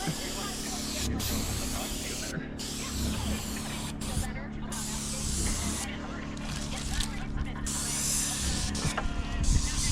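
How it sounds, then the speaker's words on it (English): Water pumped through a temporary hose setup for wildfire protection sprays out in a continuous broad hiss with a low pump drone underneath, steady for the whole stretch with brief breaks in the hissing. "now we got water that's gonna start pumping through"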